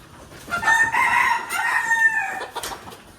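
A native desi rooster on a small farm crows once, a long drawn-out call that rises and holds before breaking off, loud and close, with a shorter cluck-like note near the end.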